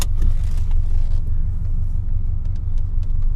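A 1994 Subaru Legacy Turbo with a five-speed conversion rumbles steadily while driving along, with a low continuous drone and faint road noise and no voices.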